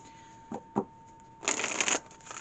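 Tarot cards being shuffled up close: two soft taps, then a quick, dense riffling burst of about half a second, followed by faint rustling, with no voices.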